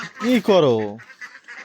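Domestic ducks give a brief nasal, honking call up close, followed by a short spoken phrase.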